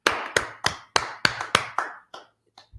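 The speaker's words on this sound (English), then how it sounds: "Let's clap it up for the Lord, class." A small class claps in unison during a law class at an organization headquarters, giving seven sharp, evenly spaced claps up close, followed by a few scattered, fainter claps as it dies out.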